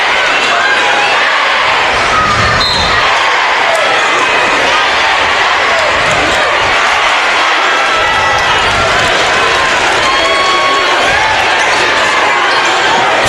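A lively crowd roars and cheers steadily throughout a packed gym during a 3A men's high school basketball regional final, with a student section adding to the sustained din and faint thumps of play beneath.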